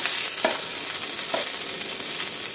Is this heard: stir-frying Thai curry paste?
yes